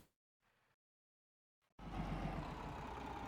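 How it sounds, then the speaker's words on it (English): Silence and faint bits give way to a loud, steady diesel truck engine drone in the TruckersMP truck simulator, rumbling close and constant. "Oh, I hear an engine."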